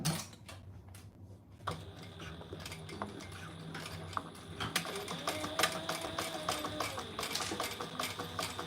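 A sewing machine stitches a Ciana pattern piece in a quiet room, with irregular ticking and clicking mechanical bursts that start and stop as the fabric is guided.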